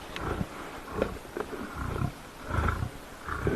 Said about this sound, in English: Listen to that growling.